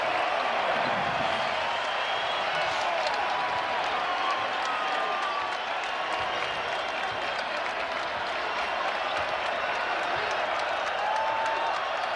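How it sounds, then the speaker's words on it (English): A college basketball arena crowd, Baylor against Arizona, roars with loud, sustained cheering and applause after a dunk, a dense, steady wash of noise that holds for about twelve seconds with no letup. "Crowd loving it."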